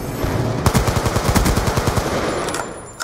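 Rapid video-game gunfire from a wall bang shot, a fast burst of repeated cracks and thuds running nearly the whole time, loud and close, ending with one last isolated shot.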